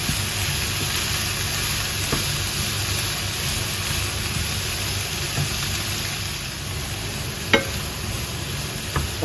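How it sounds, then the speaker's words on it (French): Butter melting into onions cooking in a pan, a steady close sizzle with light stirring scrapes and a couple of sharp utensil clicks near the end. "on va ajouter le beurre à notre préparation"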